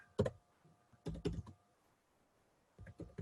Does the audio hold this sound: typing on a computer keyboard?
yes